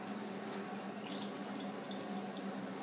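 Tap water runs steadily into the Innokin iClear 30 tank while it is rinsed, a constant faint splashing hiss with no pauses.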